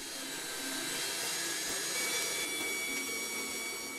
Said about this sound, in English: Now I'll run the mixer fast to get a good mixture.